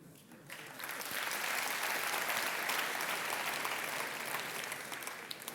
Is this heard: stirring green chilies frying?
no